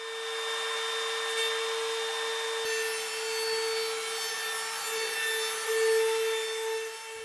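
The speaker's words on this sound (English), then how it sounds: "I'm going to flatten that with a simple jig I made with my trim router that's clamped in the shoulder vise on my workbench" Trim router held by a jig flattening a rough freehand-cut edge, a steady high-pitched whine running continuously with a slight shift in tone as the bit bites into the wood.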